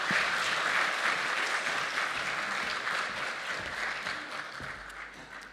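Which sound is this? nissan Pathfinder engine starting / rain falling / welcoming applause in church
welcoming applause in church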